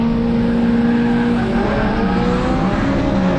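A Peugeot 106 race car drives around the Mallory Park circuit, its engine a steady, loud drone with a slowly shifting pitch and no pauses.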